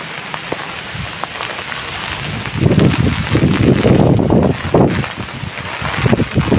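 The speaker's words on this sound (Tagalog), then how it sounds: "Pabugso-bugso siya, pabugso-bugso, malakas ang ulan. Saka hangin." Heavy typhoon rain pours steadily in Batanes, Philippines, swelling in gusts as wind buffets the microphone, a loud, roaring downpour with no voices.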